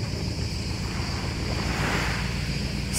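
Steady wind rushing over open water with surf washing in the background at Göcek on the Turkish coast, a continuous broad roar at even loudness throughout.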